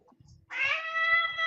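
A close, drawn-out cat meow, loud and wavering, rises after a few faint low knocks and holds steady to the end.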